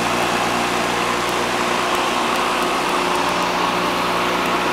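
A custom electric lawnmower motor runs steadily and quietly, a constant close whirring hum with no pauses, alone without talk.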